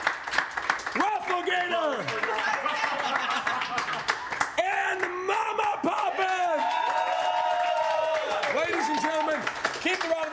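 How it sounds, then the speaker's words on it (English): Applause and cheering fill a live comedy roast, with a crowd clapping and whooping in a loud, continuous wash while an announcer speaks over it on a microphone. "Keep the round of applause going for the wonderful 100 Thieves production staff who put on this event."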